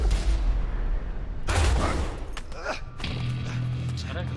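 Gunshots in PUBG Mobile ring out as a dense burst of loud, close blasts with thuds and whooshes, a voice chattering underneath.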